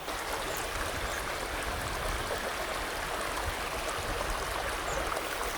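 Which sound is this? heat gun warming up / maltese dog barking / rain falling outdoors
rain falling outdoors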